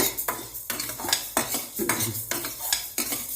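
Repeated metallic scraping and stirring as spice powder is dry-roasted in a pan, a steady rhythm of utensil strokes against metal with a faint sizzle underneath, no voices.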